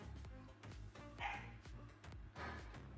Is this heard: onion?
no